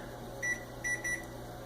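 An oven timer being set in a home kitchen beeps three times, short and fairly loud, over a steady background hum.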